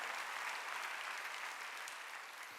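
Church congregation applauding during a Sunday worship service, a steady wash of many hands clapping at once, dense and even throughout with no voices standing out.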